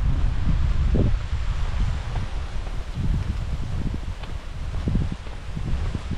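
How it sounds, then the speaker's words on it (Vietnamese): Cool wind blowing across a mountain hillside in rural Vietnam, a steady rough rumble of gusts buffeting close to the microphone with faint rustling, no talking. "ở trên này gió rất là mát"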